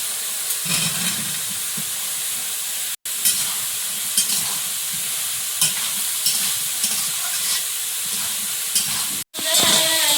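Masala and melted tomato fry in a pan, a continuous loud sizzle and steamy hiss with occasional scrapes of a stirring utensil, broken by two brief silent gaps.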